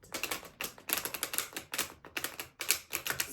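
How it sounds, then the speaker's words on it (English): Tarot cards are shuffled in quick, crisp bursts of riffling and flicking, close and fairly quiet, with short pauses between the rapid clusters. "So I'm shuffling these cards"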